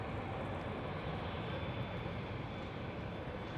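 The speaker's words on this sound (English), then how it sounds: "There goes the KLM 777 in the background." KLM Boeing 777 passing at Schiphol airport, a distant, steady broadband jet roar heard continuously from a panoramic terrace, fairly faint with no talk.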